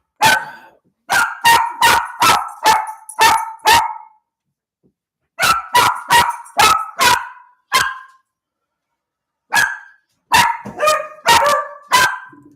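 Several dogs bark loudly and close in fast repeated volleys, about a dozen sharp barks per burst, with brief silent pauses between three clusters, reacting to a loud explosion outside.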